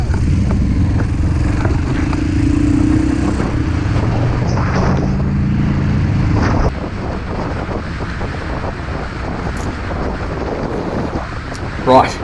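A 2018 Battle Green Royal Enfield Classic 500 with Euro 4 ABS is being ridden. Its engine rumble sits low and steady under heavy wind buffeting, and the tone shifts partway through.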